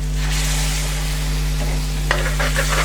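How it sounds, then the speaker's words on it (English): Fresh coriander and base gravy go into a hot balti pan, producing a loud, continuous sizzle with stirring and a sharper hissing burst toward the end, heard close up without any speech. "I'm just going to throw in a little bit of fresh coriander and another half a ladle of base gravy"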